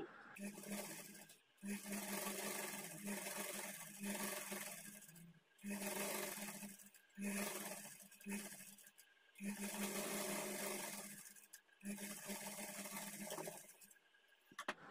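A sewing machine stitches a plain blouse in several bursts of rapid, buzzing running, each lasting a few seconds and separated by short pauses, close up and clear.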